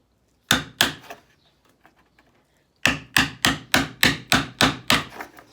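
Hard knocks of a hammer and 5-in-1 tool on wooden furniture during a Bondo repair, two blows, a pause, then a steady run of seven loud evenly spaced strikes, close and sharp with no talk.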